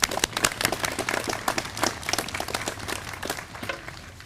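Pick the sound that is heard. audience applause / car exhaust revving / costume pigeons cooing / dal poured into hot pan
audience applause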